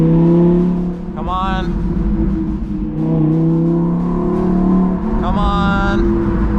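Audi R8 with a loud aftermarket exhaust, engine revving hard in two sharp climbing bursts over a steady idle rumble, close and loud, with a voice speaking between revs.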